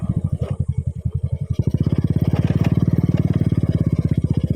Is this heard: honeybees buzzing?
no